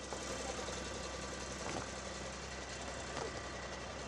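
A truck engine idles at night near a construction site in an upscale Delhi area, a continuous rumbling drone with faint knocking, steady and fairly close, with no voices.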